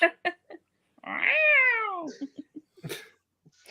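A cat gives one long, clear, drawn-out meow that rises and then falls, heard close up, with a few faint clicks and brief sounds around it.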